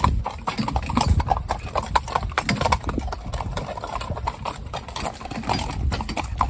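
Cob horses' hooves clip-clop steadily through puddles along a lane, a close, continuous patter of hoofbeats with wet splashing and no clear talk.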